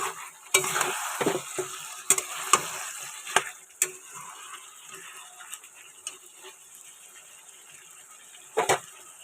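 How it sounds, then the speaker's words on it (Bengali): Tomatoes sauté in a pan, with a steady sizzle under repeated clacking strokes of a spatula stirring and scraping, close and moderately loud, then tapering toward a final stir. "তো এখন টমেটো দিয়ে আর কি কষিয়ে নিচ্ছি"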